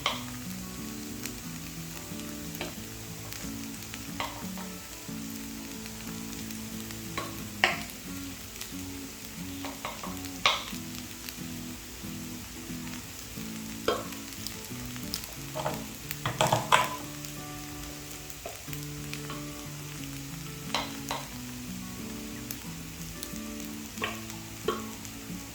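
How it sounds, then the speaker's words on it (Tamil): Cooked rice gets stirred into a sizzling brinjal masala in a pan, with a soft steady frying hiss and scattered scraping and clinking stirs, no voices. "இப்போ ரைஸ் சேர்த்துக்க போகிறேன்."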